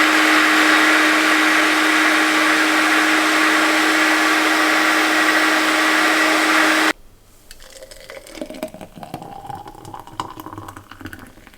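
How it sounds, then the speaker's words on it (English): A NutriBullet blender whirs loudly and steadily for about seven seconds while blending a green smoothie, then cuts off abruptly, leaving quiet rustling and handling noise. "So I'm going to blend that up now, and then I'll show you guys the finished result."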